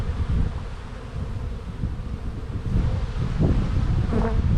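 Honeybees buzz around an open hive with a sheet of brood, a dense continuous drone close by that swells slightly louder toward the end.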